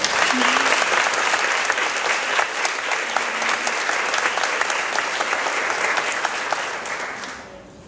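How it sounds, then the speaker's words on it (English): Sustained, dense clapping from an audience at a fundraising event honoring a group of women, holding steady for several seconds before tapering off. "So please give them a round of applause."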